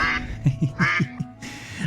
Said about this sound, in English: But I like the quacks from the ducks.